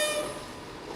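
A train arriving at Machynlleth station on the Cambrian Line rumbles in with a brief tonal horn-like whine at the start fading into steady rolling noise.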